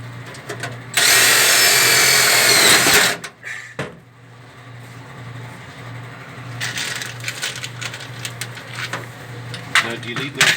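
A power drill drives screws while a heater is mounted inside the cab of a Bombardier narrow gauge vehicle: one loud, close two-second whir, then brief bursts and scattered clunks under an engine hum.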